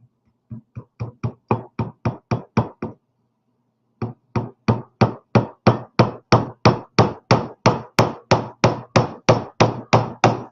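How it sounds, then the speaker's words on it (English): Something is hammered in with a hammer: a quick run of about ten sharp, evenly spaced blows, a brief pause, then roughly twenty more steady, close strikes. "See if I can hammer this in without breaking my fingers."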